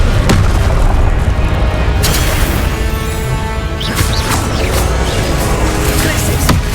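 Confringo blast spells in Hogwarts Legacy, a run of booming game explosions and crashes over dense battle noise, loud and continuous with sharp hits spaced through the fight.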